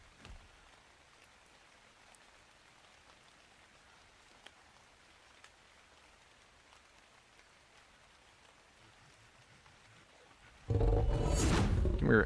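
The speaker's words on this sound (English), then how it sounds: "Dude, and it's raining too." Rain falls in the video game Ark Ascended as a soft, steady patter for about ten seconds, then swells abruptly into a loud, roaring downpour at the end.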